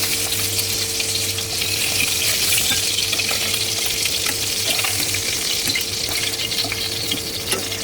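Snakehead fish frying in oil, a continuous dense sizzle with crackling spatter, loud and close, holding steady throughout with no voices.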